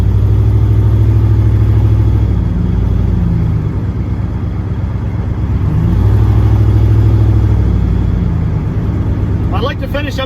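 A turbocharged LS-swapped Caravan's engine runs steadily with a loud, low exhaust drone, swelling slightly in a couple of gentle surges before a brief clatter near the end.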